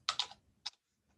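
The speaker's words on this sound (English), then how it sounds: "So I'm just going to type in a zip code" A computer keyboard is tapped for a zip code: a quick cluster of crisp keystrokes, then one more isolated click after a short pause, close and fairly quiet in a still room.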